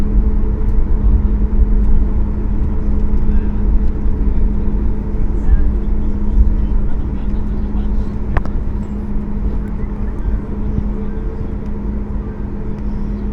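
Boeing 737 MAX engines rumble steadily from inside the cabin while lined up on the runway for takeoff, a loud continuous low drone with a constant hum and no clear spool-up.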